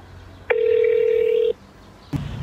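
A telephone ringback tone sounds while a call to an old classmate connects: one steady, loud beep lasting about a second, then silence, then the start of the next ring.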